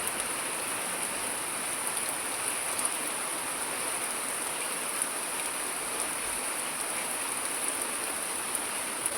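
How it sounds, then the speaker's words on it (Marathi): Steady monsoon rain falls continuously on a hill village in Sindhudurg, Konkan, a soft even hiss with no voices or breaks. "पावसाला परत सुरुवात झाली"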